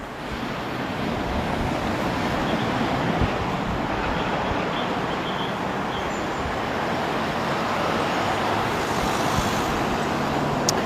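Heavy road traffic building up on a busy road near a roundabout: a dense, constant roar of passing vehicles with a wind-like rush, loud and unbroken throughout, no voices.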